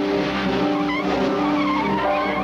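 A car accelerates hard with tires squealing and skidding in a French radio-drama getaway scene; a continuous loud, close engine roar with screeching tires throughout, no speech.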